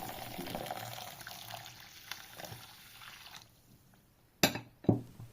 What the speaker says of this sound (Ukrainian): насипаю його в миску і заливаю окропом